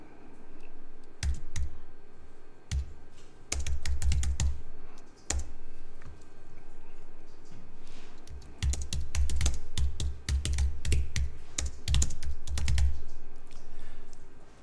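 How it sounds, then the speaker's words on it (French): Typing a title on a computer keyboard, bursts of quick close key clicks separated by short pauses, with rapid runs of keystrokes and occasional single taps. "On va taper le titre."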